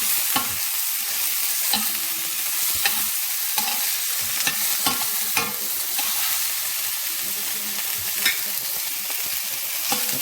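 Vegetables sauté in a hot pan with a continuous bright sizzle, while a utensil stirs and scrapes through them in irregular knocks close by.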